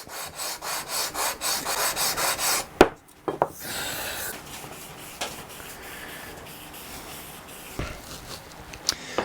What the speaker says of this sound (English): I've got 180 on one side of this beam, 220 on the other. I'm using the 220 side at this point.